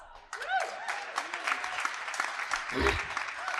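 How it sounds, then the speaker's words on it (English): A small crowd claps steadily for several seconds, a close, even patter of applause with a few voices mixed in. "Round of applause."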